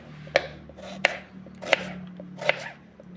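An onion being chopped with a knife on a board, four crisp, evenly spaced cuts close up, with faint kitchen background hum.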